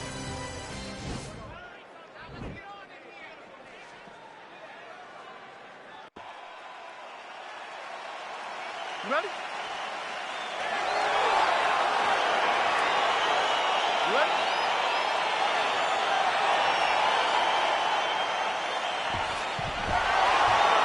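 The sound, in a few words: video game UFC crowd cheering as fight starts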